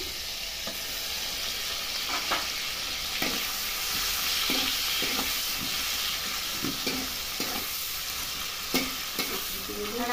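Ground onion paste stirred into softened tomatoes frying for a rohu fish curry, a steady close sizzle broken by repeated spatula scrapes at an uneven rhythm.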